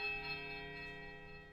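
A heavy iron bell in Pillars of Eternity tolls a single low, powerful note that hangs and rings steadily with sustained overtones, slowly fading without any talk.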